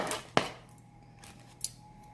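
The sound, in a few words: knife dicing frozen celery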